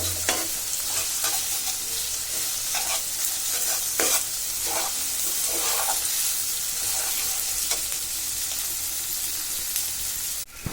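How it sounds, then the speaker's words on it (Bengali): Onion, garlic, ginger and dried chilli sizzling in oil for beef tripe bhuna, a continuous close hiss broken by regular spatula scrapes against the pan. "আমি পেঁয়াজ রসুন আদা আর শুকনো লঙ্কা তেলে বেজে নিচ্ছি"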